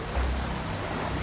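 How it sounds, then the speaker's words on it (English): Water rushing in as a horror sound effect, a steady broadband wash with a low rumble, continuous and close throughout the short moment. "Then came the sound of water rushing inside."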